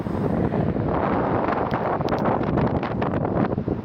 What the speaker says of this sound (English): It's still windy now.